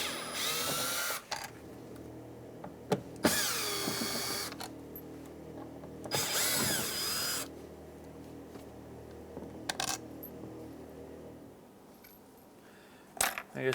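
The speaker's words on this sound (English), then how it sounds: "We're going to remove these 3 screws." Three door panel screws come out of a 2003-2011 Honda Element door with a power driver. There are three separate whirring bursts, each a second or so long, close by, with small clicks and quiet handling between them.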